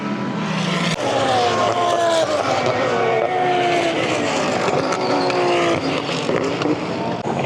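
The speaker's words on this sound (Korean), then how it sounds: "갑자기 차가 멈췄다가 갑자기 또 가속하니까" Super GT race cars at Fuji Speedway brake hard at the end of the straight and then accelerate again, loud engines close by with rising and falling whine and roar, a crowd murmuring faintly behind.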